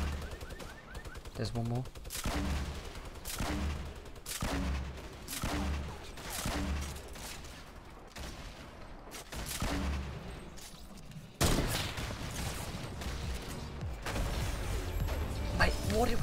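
Rapid bursts of automatic gunfire in the Fortnite video game, loud and repeated throughout, under excited shouting from players.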